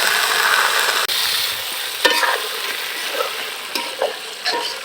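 Moong dal and cut potatoes tipped into a hot pan of oil crackle and sizzle steadily at close range, with a few sharp clinks and spatters of stirring breaking through the continuous frying hiss, no voices.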